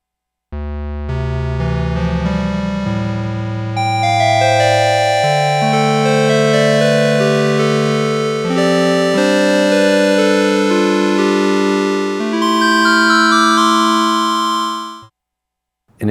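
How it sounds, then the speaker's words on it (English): Square-wave oscillator on a Kawai K3 vintage hybrid synthesizer, playing a loud, sustained sequence of buzzy harmonic tones and chords that shift in pitch over about fifteen seconds before cutting off. "And then we have the square wave."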